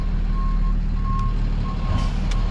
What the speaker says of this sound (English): I think I backed in too much.